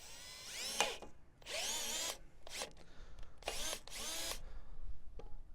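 A power drill drives a screw into wood fastened to metal in five short whirring bursts of rising and falling motor pitch, close and loud, with brief pauses between each run.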